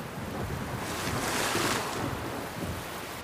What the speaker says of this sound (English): gale force winds unloosed torrential rains on the farms outside Fort Worth